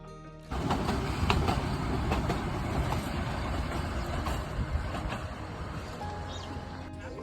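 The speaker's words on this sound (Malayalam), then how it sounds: "ഈ ടോയ് ട്രെയിൻ ഈ മലനിരകളിലൂടെ കടന്നു പോകുന്നത്" A toy train of the Nilgiri mountain railway runs through the hills; a loud, steady rumbling roar begins abruptly and holds for about seven seconds, fading slightly toward the end.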